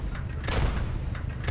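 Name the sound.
tank cannon shot in video game Panzer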